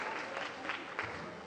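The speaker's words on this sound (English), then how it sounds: "Thank you very much for the applause." Faint, thin applause from a small audience at a magic show, a few scattered claps standing out, distant and brief.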